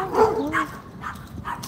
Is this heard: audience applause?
no